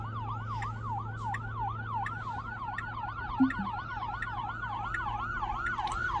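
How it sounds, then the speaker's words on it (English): A wailing ambulance siren cycles steadily up and down over a low engine rumble, loud and close throughout. "Here comes an ambulance."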